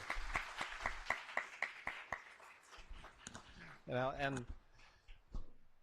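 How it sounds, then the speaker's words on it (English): Audience claps for a Deputy Director at an economic summit in Seattle, a quick run of single claps, then a voice speaks over fading scattered clapping. "How about one more round of applause for the Deputy Director?"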